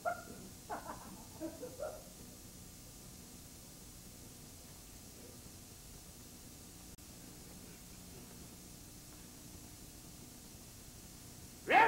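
A dog gives a few short barks near the start, set against a steady hiss of background noise, then falls quiet for the rest of the stretch.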